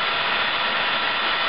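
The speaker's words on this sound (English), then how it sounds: "Marvellous thing, a rechargeable drill, by the way. Variable speed, high torque." A variable-speed rechargeable drill runs while a diesel injector removal tool for an Isuzu 4JX1 engine is being made, giving a steady, close, even motor whir with no pauses.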